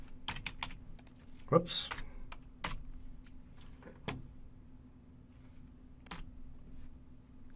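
Keystrokes tapped on a computer keyboard at a terminal, with scattered quiet clicks and one brief spoken exclamation, close and faint over a steady low hum.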